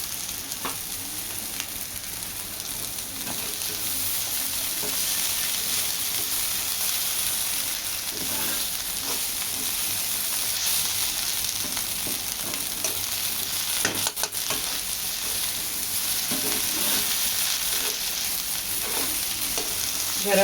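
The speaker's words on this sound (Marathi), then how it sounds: "व्यवस्थित हलवून घ्यायचं आहे" Okra bhaji fries in a pan with a steady, close sizzle that runs throughout, while occasional stirring scrapes rise through it and no voices are heard.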